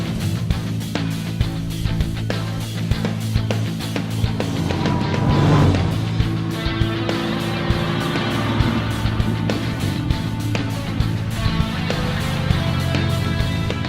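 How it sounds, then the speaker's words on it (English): Cars on a road trial heading east along a route recreating one from 1900 keep up a steady engine drone, with one vehicle passing close by midway before the hum settles back. "As the cars headed east"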